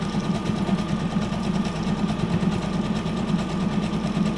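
Electric sewing machine running steadily while stitching a junk journal cover made from a Little Golden Book, a continuous close mechanical whir with fast rhythmic needle ticking throughout.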